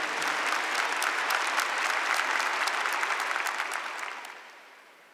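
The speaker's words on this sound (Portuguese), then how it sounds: "Então uma salva de palmas também para os apóstolos." Dense, sustained applause from a church congregation at a Portuguese-language Catholic talk, loud and even for about four seconds before fading out toward the end, with no voices over it.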